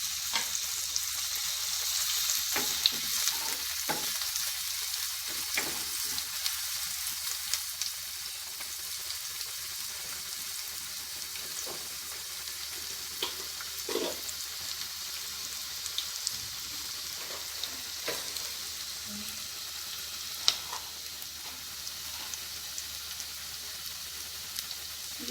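Two bay leaves dropped into hot oil for a rajma prawn curry crackle and sizzle steadily, with scattered sharper pops over a faint, even background hiss and no one speaking.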